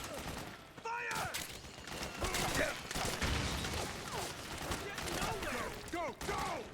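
Dense video game gunfire from Metal Gear Solid 4 rattles on without a break, with overlapping bursts and shots that stay loud throughout, while soldiers shout commands over the battle.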